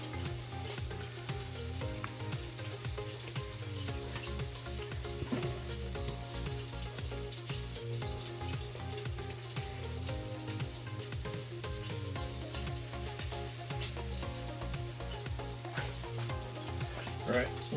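Whole wheat pecan pancakes fry on a griddle with a steady, close sizzle that crackles on without pause and without voices.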